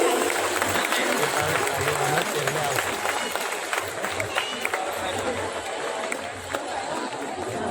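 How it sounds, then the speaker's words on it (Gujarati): A crowd in Anand welcomes the relics of Saint Francis Xavier with sustained, loud clapping and cheering, and voices and chatter rise through the dense applause. "આપણે જોરદાર તાળીઓથી તેમનું સ્વાગત કરીશું"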